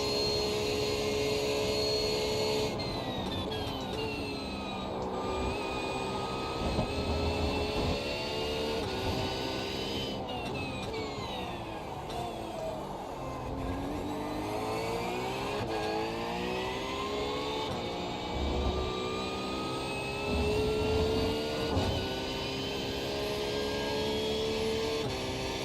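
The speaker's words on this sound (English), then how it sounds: "the LMP2s will be coming past us very soon as well" LMP2 prototype race cars at an IMSA event roar past on the circuit, with engine notes rising and falling as they approach and pass, loud and continuous.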